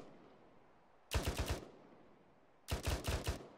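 Two short, loud bursts of rapid automatic gunfire in the video game Spartan 2, each about half a second of four or five quick cracks, separated by a quiet pause with no talking.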